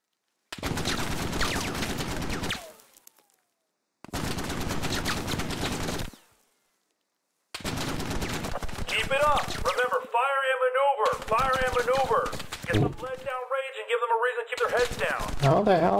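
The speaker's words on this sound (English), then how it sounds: "How the hell can I fire and maneuver?" Rapid bursts of gunfire from the first-person shooter Squad come in sustained volleys separated by silent gaps, loud and close, with a voice talking over the later shooting.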